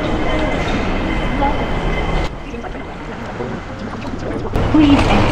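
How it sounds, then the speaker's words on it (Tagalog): Rumble and rattle of the airport shuttle train to immigration at Hong Kong International Airport, a steady close rolling drone with a brief shift in level partway through, heard from inside a carriage. "So this is the train to immigration."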